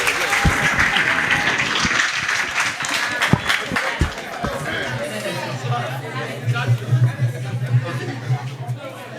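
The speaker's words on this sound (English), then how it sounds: "Please, let's put our hands together." Seminar audience at a drug sensitization event claps in a loud, dense burst, with chatter and voices mixed in, tapering into murmuring and a low hum.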